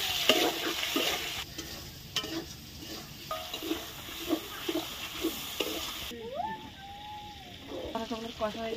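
Spices with salt and turmeric stir-fried in a hot pan sizzle up close. A spatula scrapes and taps in an uneven rhythm, and a short tonal squeak and some background noise come in near the end.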